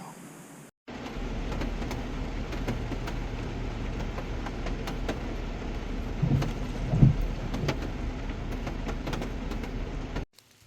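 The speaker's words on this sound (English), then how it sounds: "It's raining a good bit this morning" Steady rain falls in the woods on a morning deer hunt on public land in Ohio, a continuous dense hiss that fills the whole stretch after a brief quieter opening, with one or two soft knocks and no talk.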